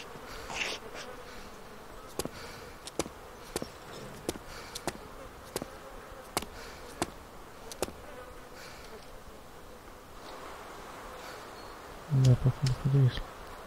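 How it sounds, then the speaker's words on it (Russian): Faint fly buzzing hums low and steady throughout in the game Arma 2: Operation Arrowhead, amid a distant firefight, broken by sharp clicks and pops, with a louder burst near the end. "эти мухи могут"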